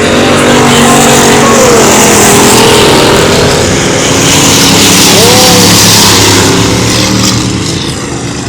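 V8 race cars on an oval track, a loud, dense engine roar with rising and falling passes as the cars circle, fading slightly toward the end.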